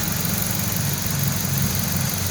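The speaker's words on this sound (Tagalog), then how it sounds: "Tapos kung titingnan natin yung kalagayan ng makina niya is talaga namang mahinahon na." A Ford Focus 1.6 engine idles steadily and smoothly, a continuous low hum with faint vibration, heard close and without any talk over it.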